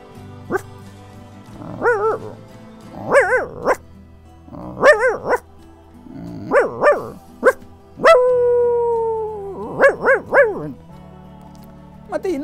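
A voice imitates an older puppy barking: a series of sharp, separate yips and barks with short gaps, then one longer drawn-out howl-like cry, close and loud with no words spoken.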